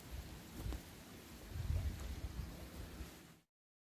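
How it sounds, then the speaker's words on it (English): Rain falling with low rumbling wind noise, a dull steady wash up close that cuts off abruptly. "The rain is well and truly here now."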